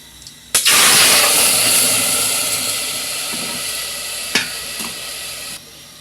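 Soaked rice poured with its water into hot spiced oil tempering, setting off a sudden loud burst of sizzling that slowly fades into a steady hiss, with a couple of sharp clinks from a utensil near the end.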